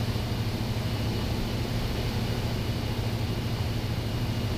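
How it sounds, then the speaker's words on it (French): Steady, droning engine and rotor noise heard from inside a Colibri helicopter in flight over Aquitaine, a constant loud hum with a low tonal buzz that never lets up. "c'est un hélicoptère Colibri"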